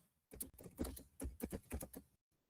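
Quick, close keystrokes on a computer keyboard typing a to-do list into a blank document, a dense burst of clicks in an irregular rhythm that stops abruptly, heard alone.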